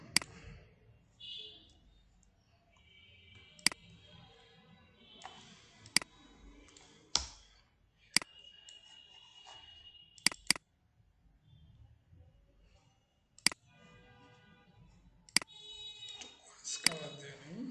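Computer keyboard keys click in sparse, separate taps as text is entered in Photoshop. A voice talks quietly between the clicks.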